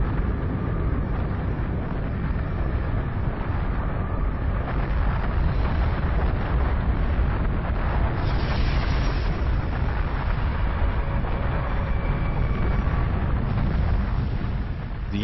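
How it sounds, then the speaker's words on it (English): A simulated asteroid impact explosion gives a continuous, loud, deep roaring rumble with wind-like turbulence, sustained and dense throughout, with no voices. "The asteroid strikes with such immense force, it destroys everything it hits."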